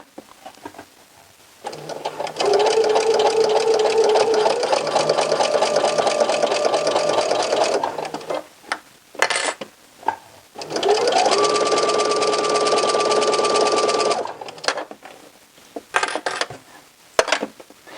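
A sewing machine stitches a knit sweater seam in two long runs, the motor whirring steadily and rising in pitch as it speeds up, with clicks and handling noises between the runs.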